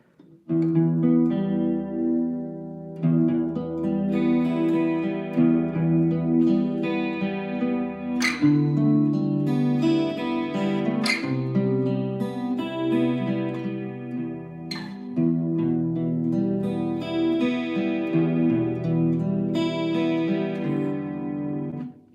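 Acoustic guitar chords strummed and left ringing, with a warm, full sustained tone that shifts between several chord shapes over about twenty seconds, a few sharp string attacks standing out, no voice present.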